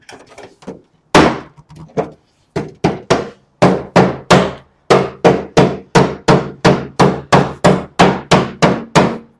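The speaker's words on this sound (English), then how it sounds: "I can't get mine in without the mallet" A mallet knocks cedar boards of a 2x8 elevated planter box into place, about twenty loud, close wooden thuds in a steady rhythm after a few lighter taps.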